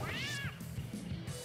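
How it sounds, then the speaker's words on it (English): A short, rising cat meow from the Bloody Roar Extreme fighting game sounds during a tournament match, clear at the start, followed by low game noise. "I love hearing that little meow."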